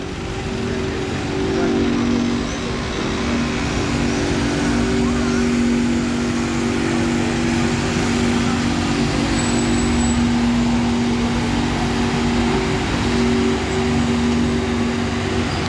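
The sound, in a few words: bus engine starting and running in Monaco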